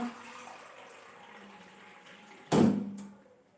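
Water from a pot of boiled eggs is poured out in one short splashing gush that fades over about a second, following a quiet stretch of low room noise.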